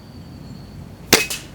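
A single sharp air rifle shot during hunter field target shooting, a crisp close crack followed by a fainter second snap from the target, after a quiet outdoor lull.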